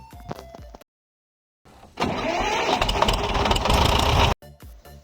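A worn old T-25 tractor in Farming Simulator 20 cranks briefly after a silent gap, then catches into a loud, rough mid-pitched run for a couple of seconds before cutting off abruptly.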